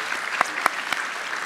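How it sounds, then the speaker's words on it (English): Steady, dense applause from an audience at an annual church conference, filling the whole moment with a few sharper claps standing out above the even patter. "would you all please stand and get a round of applause"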